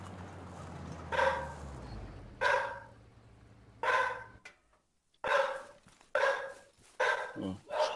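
A dog barks in a series of separate, fairly close woofs spaced a second or so apart, over a low steady hum, with a brief quiet gap midway.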